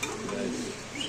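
Racing pigeons kept in a cage coo low and continuously close by, while someone talks over them.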